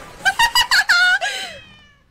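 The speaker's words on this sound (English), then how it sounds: "It was a cat." A cat meows in a quick run of short, squeaky calls, then gives one longer, drawn-out meow that fades away. The calls are close and clear, with no talking.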